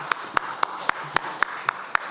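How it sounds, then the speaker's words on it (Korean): A church congregation claps in unison during a Sunday worship service: eight sharp, evenly spaced claps in a quick steady beat, with no talking over them. "힘찬 박수 영광 돌리십시다"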